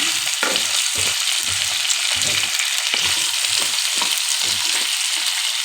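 Pumpkin pieces with paneer curry sizzle loudly and steadily in a pan while a spoon stirs through them in repeated scraping strokes.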